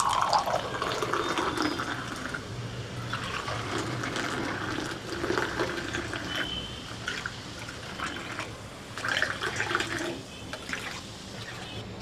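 Soda or water poured into a glass of lemon mint juice, a steady fizzy splashing stream with gurgling, close and moderately quiet, ebbing slightly near the end.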